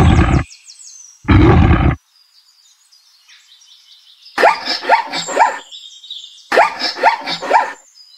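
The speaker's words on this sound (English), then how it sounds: "Lion." A lion roars in loud, deep bursts: two short strong calls at the start, then two longer rumbling roars with grunting pulses, heard alone.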